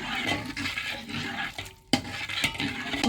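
Rice pudding made with date palm juice, cardamom, cinnamon and two bay leaves is stirred in a pot, giving a wet, churning scrape and bubbling with a brief pause before the stirring resumes.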